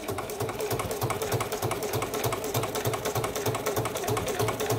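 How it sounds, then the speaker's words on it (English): A Juki DX7 sewing machine stitches down fabric strips, a close, steady rapid thumping rhythm of the needle running evenly throughout. "And then we're just gonna sew this down."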